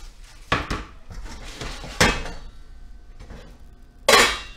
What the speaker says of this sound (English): I'm going to take the onions and put them with the mussels. I'm going to throw that in the container.